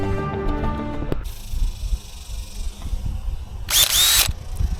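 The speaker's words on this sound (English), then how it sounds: "let's put some holes in this PVC pipe" A power drill bores holes in PVC drain pipe for a French drain in a trench, with a short motor whine at the start, then bursts of scraping and clatter and a loud, high-pitched grinding burst near the end.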